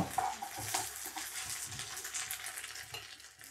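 Beef pieces stir-fry in hot oil for a restaurant-style beef chilli, with a crackling sizzle and busy irregular spatula scrapes and clinks close by, no talking.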